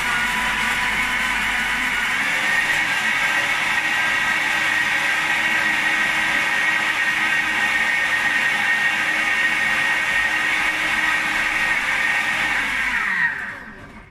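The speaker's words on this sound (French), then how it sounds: "j'ouvre le capuchon de mon blender" A blender whirs continuously while mixing mango and passion fruit, a loud steady motor whine that holds for several seconds before cutting off abruptly near the end.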